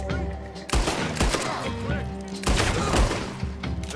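Gunfire rings out in the Western video game Red Dead Redemption, with repeated loud, close shots cracking in an irregular volley across the whole stretch, backed by a low game rumble.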